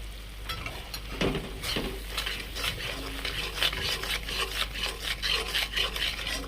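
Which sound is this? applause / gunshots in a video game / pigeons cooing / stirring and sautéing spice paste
stirring and sautéing spice paste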